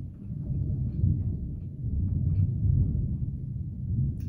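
Thunder from an outdoor storm rolls as a continuous low, heavy rumble for several seconds, moderately loud and steady with no voices.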